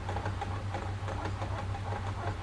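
Simulated car engine in the Live for Speed racing game, revving up after a shift into a higher gear, a steady droning growl with a low buzzing rumble that holds through the short stretch, no voices over it.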